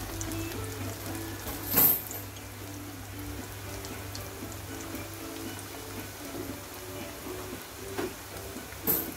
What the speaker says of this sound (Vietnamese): Thì bây giờ em sẽ cho hết cái phần sườn vào đây, rồi mình sẽ chiên vàng đều hết các mặt nha.